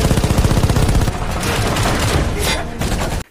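Rapid, loud bursts of gunfire in close succession during a shootout in a building, a sustained volley of shots that cuts off abruptly at the end.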